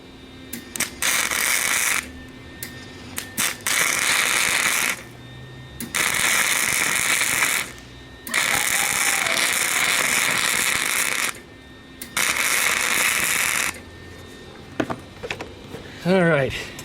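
Tack welding on a broken steering shaft of a KT196 go kart: several loud crackling, sizzling bursts of a few seconds each, separated by short pauses, up close.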